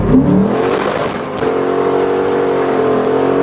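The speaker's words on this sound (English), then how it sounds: "I'm gonna pop her in first, just roll onto it at about 20 miles an hour." A Mustang GT pulls away hard in first gear from a roll of about 20 mph, its engine note building into a steady, loud drone as it accelerates, heard up close with no talk.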